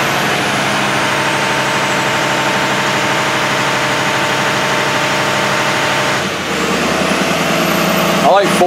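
A Ford 6.7 Powerstroke diesel with a check engine light and low boost runs at a steady, loud idle during a key-on engine running test, with a voice speaking over the engine drone.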